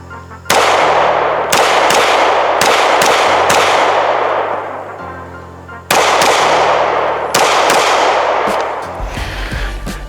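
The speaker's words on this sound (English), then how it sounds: "we're just going to go ahead and shoot at this tree stump over here." Smith & Wesson M&P Shield Plus 9mm pistol fired outdoors at a tree stump, about eight loud sharp shots in irregular bursts, each ringing out with echo.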